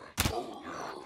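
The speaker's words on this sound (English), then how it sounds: "So we're going to shoot him in the chest." A single rifle shot strikes a military armored puppet in Scum, a short muffled thunk at close range followed by a faint lingering tail.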